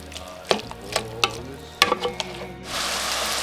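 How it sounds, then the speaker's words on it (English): Pork salpicao with garlic sizzling loudly in a pan, stirred in a steady scraping rhythm that ends in a continuous close hiss of frying. "we're going to keep on stirring until the sauce is almost dry"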